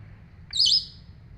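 A hill myna mimicking the calls of nearby birds gives one bright, whistled chirp, close and clear over a low background hum, alone with no talking.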